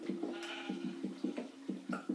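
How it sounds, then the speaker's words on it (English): Sheep in a Minecraft survival game bleat in a quick run of short, repeated calls, close and moderately loud, with no talking. "See, there's a sheep right down there."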